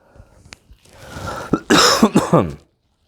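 A person with a sore, sick voice coughs several times, harsh and close, starting with small throat noises and building into a loud, raspy coughing fit.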